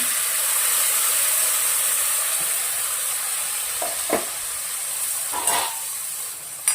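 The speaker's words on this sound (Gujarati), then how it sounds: "ગ્રેવી મસ્ત મજાની પકાવી લેવાની છે." Tomato gravy with garlic and red chilli cooking in sesame oil for dal makhani, a constant close hissing sizzle with a few soft stirring knocks near the end.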